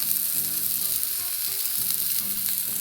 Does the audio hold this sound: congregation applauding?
no